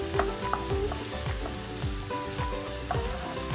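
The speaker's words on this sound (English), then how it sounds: "Once the oil is hot, add the chopped onions and saute it until it's soft" Chopped onions sauté in hot oil in a pan with a loud, continuous sizzle and crackle, while a spatula scrapes and stirs in repeated strokes throughout, close and with no voices.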